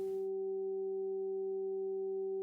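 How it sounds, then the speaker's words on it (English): Three steady pure sine tones at 192, 384 and 768 hertz, presented as solfeggio healing frequencies, held together as a smooth unwavering hum, alone after a brief faint noise at the start. "You are hearing 3 tones."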